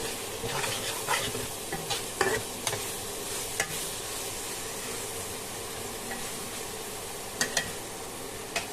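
Bengali spice paste (masala) for a fish curry frying in oil, a steady close sizzle with scattered stirring scrapes and clicks throughout, no voices.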